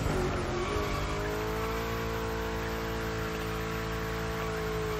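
A car drifting on a wet, rainy track in The Crew Motorfest, its tires squealing in a long sustained tonal screech over a constant engine drone, loud and close with no talk.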